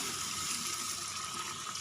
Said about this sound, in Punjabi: ਹੁਣ ਵਿੱਚ ਪਾਣੀ ਐਡ ਕਰ ਦਿੰਦੇ ਆ